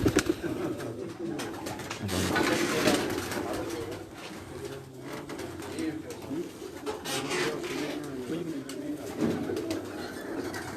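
Golden pigeons cooing at a pigeon-flying event in Dina, Jhelum, their soft repeated coos mixed with rustling, crowd murmur and people talking throughout.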